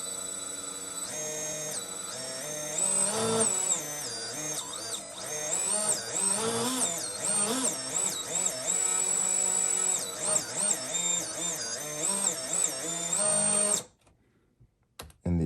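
Two brushless motors on a FETtec-equipped Apex G4 quad spin up on the bench, a steady whining drone with pitch sweeping up and down over time, then cutting off abruptly near the end.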